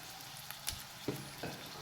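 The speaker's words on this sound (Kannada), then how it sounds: "ಸಣ್ಣದಾಗಿ ಕಟ್ ಮಾಡಿರೋ ಈರುಳ್ಳಿನ ಆ್ಯಡ್ ಮಾಡ್ತಾ ಇದ್ದೀನಿ. ಅದ್ರ ಜೊತೆ ಕರಿಬೇವು ಸಹ ಆ್ಯಡ್ ಮಾಡ್ತಾ ಇದ್ದೀನಿ." Chopped onion and curry leaves frying in a pan for a pumpkin fry, a faint steady sizzle with a few soft clicks of stirring, no voices.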